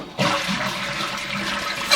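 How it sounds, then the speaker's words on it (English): A toilet flushes after a Korky Universal kit install, a sudden loud rush of water that holds steady and close for the whole stretch. "We're going to flush it a couple more times just to make sure everything stays in place."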